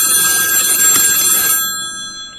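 A phone ringtone rings loudly and steadily with bright sustained tones, cutting off abruptly partway through and leaving quiet behind.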